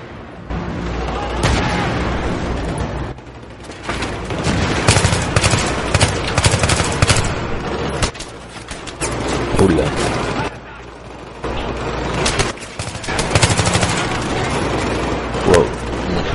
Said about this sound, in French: J'adore pouvoir tirer en rampant comme ça